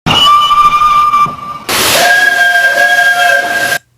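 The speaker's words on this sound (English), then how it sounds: "he heard two loud whistles" Two loud steam locomotive whistles from A3 Pacific engines sound at a rail yard near the sheds, each a sustained, piercing tone, the second starting just after the first ends, together lasting close to four seconds with no talk.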